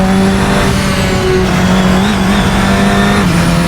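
A Radical SR10 XXR race car engine in a racing sim, screaming at high revs with a steady droning tone, loud and unbroken, with slight pitch shifts as the car is pushed hard.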